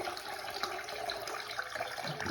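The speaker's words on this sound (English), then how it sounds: "rocks are very hard typically to flush for any toilet" Water rushes and gurgles steadily as a toilet flushes a load of rocks, a continuous loud flow with no speech.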